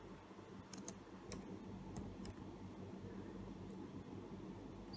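Someone typing a name on a computer keyboard, a few quiet scattered key clicks over soft background hiss, faint and without talk.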